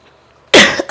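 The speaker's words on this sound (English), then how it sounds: "Sorry about the coughing" A sudden burst of harsh coughing, loud and close, following a quiet stretch, with a second smaller cough right after.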